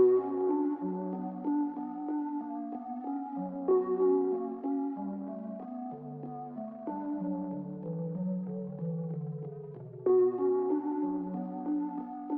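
Soft synth keys from a preset called SKY keys carry a sweet, repeating melody in an FL Studio beat for an Afrobeats remake. The chords and top line move steadily at moderate volume, played alone with no voices.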